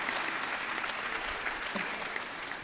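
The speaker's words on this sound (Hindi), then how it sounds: "बंगालियों के लिए एक बार जोरदार ताली बजाओ" An audience claps enthusiastically, steady dense applause held throughout at moderate distance, with no clear talking over it.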